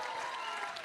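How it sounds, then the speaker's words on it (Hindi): A crowd applauds two people on stage at a film trailer launch event, a brief, fairly faint and even wash of clapping heard from a distance. "ताली बजाओ इन लोगों के लिए एक बार, दोनों के लिए।"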